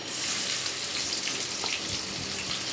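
Sliced onions are dropped into hot oil already frying with cardamom, cinnamon, bay leaf and black pepper for pulao, giving a steady close-up sizzle and crackle with no talking.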